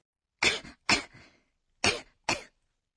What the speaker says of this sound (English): For a slight cough like this